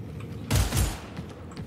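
Gunfire in the video game Warhammer 40K: Darktide, a short burst of muffled rapid shots lasting about half a second over steady background noise.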